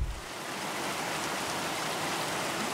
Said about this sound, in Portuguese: sons neutros, como os sons de chuva